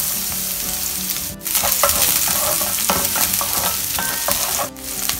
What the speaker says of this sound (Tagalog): Ngayon naman ay magigisa na tayo. So ito ang ating sibuyas. Then isunod na agad natin yung bawang.